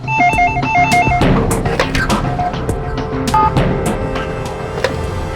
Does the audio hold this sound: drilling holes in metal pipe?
no